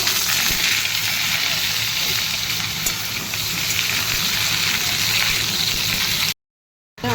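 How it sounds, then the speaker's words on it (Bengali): Vegetables fry in a wok after five-spice tempering and fried lentil dumplings, a steady close sizzle and crackle running without a break for about six seconds before a sudden cut to silence. "এবার সবজিগুলো ভেজে নেব।"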